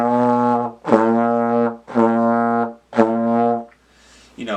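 A trombone plays four separate short notes, each one tongued too hard so the sound breaks off between them, giving a choppy, broken rhythm. A soft breath follows at the end.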